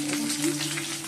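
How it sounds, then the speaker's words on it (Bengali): Large chicken pieces frying in hot oil in a wok, a dense steady sizzle with a faint low hum underneath, brief and close. "এই যে বন্ধুরা চিকেনটা ভাজছি"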